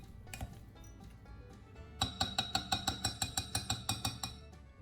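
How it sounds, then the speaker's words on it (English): Hot boiled potatoes being mashed with a potato masher in a bowl, a quiet run of about a dozen evenly spaced metallic clinks against the bowl after a few scattered taps, no talking. "use a potato masher to mash them right away"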